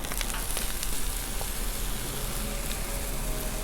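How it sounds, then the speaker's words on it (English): Chopped vegetables, including broken-up onions, sizzle steadily on a hot Blackstone flat-top griddle, a continuous close, even frying hiss with no talking over it. "I'm gonna throw the veggies on first"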